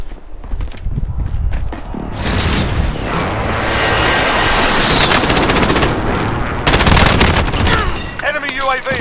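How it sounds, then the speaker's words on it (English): A precision airstrike in a Warzone match rains down as a long, loud barrage of explosions and heavy rattling fire, sustained for several seconds with aircraft roar and voices mixed in. "Enemy precision airstrike."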